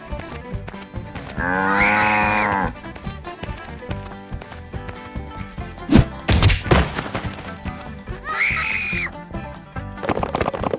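A cow on a farm moos twice, once long and loud near the start and again briefly near the end, with thumps and a busy music-like background between.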